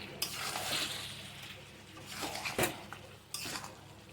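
Potatoes and goat mutton are stir-fried in a pot for a red mutton curry. A hissing sizzle swells and fades as a utensil scrapes and clanks against the metal several times, fairly close.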